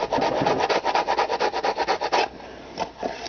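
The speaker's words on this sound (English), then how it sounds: "So you see you can scrape it." A small knife scrapes across birchbark in steady, rhythmic strokes, a close dry rasping repeated about a dozen times before trailing off into a few lighter scrapes.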